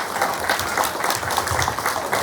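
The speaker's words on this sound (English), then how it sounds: "Please give these students a round of applause." Students at a school assembly receive a burst of brisk, steady clapping from the gathered audience, lasting a couple of seconds with no break.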